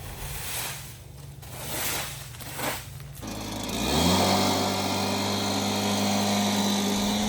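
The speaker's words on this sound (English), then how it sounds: "Here I am using the leaf blower to get all the fines out of the high tunnel" A leaf blower's loud, steady engine-driven roar starts up partway through and holds strongly to the end inside a high tunnel greenhouse, after quieter rustling and handling noises.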